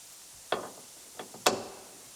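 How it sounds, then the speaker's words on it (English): Three sharp, close metallic clicks from a torque wrench tightening a hatch striker bolt on a 2020 Toyota RAV4 XSE hybrid, spaced unevenly over a couple of seconds in a quiet space. "we'll get our torque wrench out"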